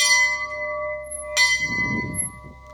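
A bright bell-like notification chime rings out, followed by a second sharp tinkling strike about halfway through, with a soft muffled rustle trailing after.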